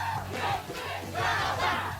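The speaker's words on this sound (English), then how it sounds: "A disorderly crowd." A disorderly crowd shouts and roars together in a dense, continuous wall of voices, swelling in two loud surges across a couple of seconds.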